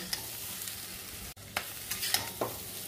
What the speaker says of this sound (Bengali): একসাথে নেড়ে নেব। এতে হবে কি, পেঁয়াজের যে গন্ধটা সেটা এঁচড়ের মধ্যে ঢুকে যাবে।